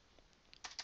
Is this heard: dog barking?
no